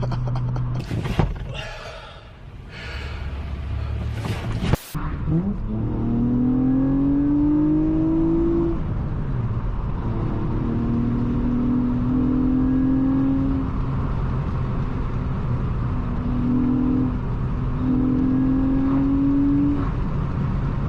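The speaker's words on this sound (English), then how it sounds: "This car sounds so freaking good." Honda Accord V6 six-speed coupe, seventh generation, with its VTEC engine revving and pulling through the gears while driving, heard from inside the cabin as a steady, close engine note that rises repeatedly in pitch, after a few short knocks at the start.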